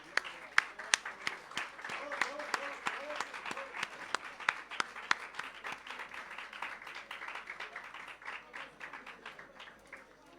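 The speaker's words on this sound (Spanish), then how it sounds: "Un aplauso muy grande" A large audience claps warmly at an evening national journalism award ceremony, many sharp individual claps standing out in a fairly distant, sustained ovation with some voices underneath.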